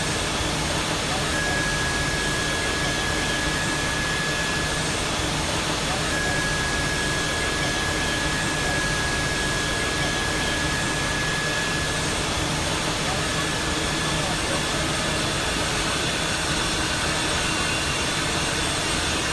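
Jet engine of a jetBlue Airbus A220 starting in the Infinite Flight simulator, a loud steady roar with a faint thin whine running through it, while a voice talks over it.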